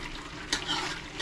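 Fresh meat for curry frying in its own rendered fat and juices in a pan, giving a soft continuous sizzle with a couple of brief stirring scrapes, close and fairly quiet.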